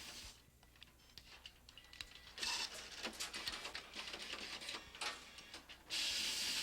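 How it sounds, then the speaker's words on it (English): Automated film-processing machine pulling film from its canister and splicing it onto a roll, giving off quiet rapid mechanical clicking, ratcheting and whirring, with louder bursts of motor noise in the middle and at the end. "This machine removes the film from its container, splices it onto the roll, and discards the original spool and canister."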